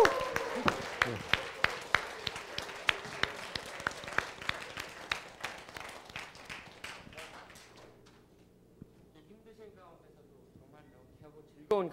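An audience applauding a lecturer on health and immunity, rhythmic sharp claps over a steady wash of clapping for about eight seconds before it fades out to near silence, with a voice coming in at the end.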